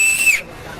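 A whistle gives one loud, shrill blast lasting about a third of a second, then cuts off into quiet background hiss.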